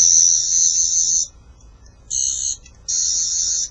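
An 11th Doctor sonic screwdriver toy emitting its electronic sound effect, three close, loud, high warbling buzzes pressed one after another with short pauses between.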